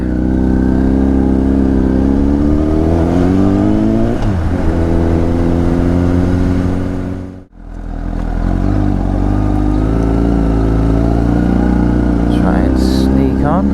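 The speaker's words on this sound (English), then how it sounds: "you see a super bike with the guy on full race leathers come around a caravan park" A Honda CBR 1000RR Fireblade superbike ridden by a rider in full race leathers around a caravan park gives a loud, sustained engine drone that briefly dips away midway, then swells back up.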